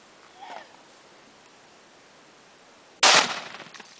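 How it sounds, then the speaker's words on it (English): A rifle shot hits Tannerite and blows up a bucket outdoors, one sudden loud blast that decays over about a second after a quiet stretch. "That literally exploded."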